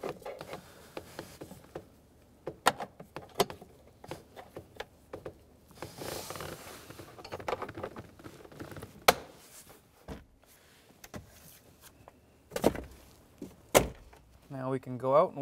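Plastic glove box bumpers and locks on a 2003-2011 Honda Element clicking back into place: sharp clicks and rattling knocks up close, scattered irregularly with handling noise between them.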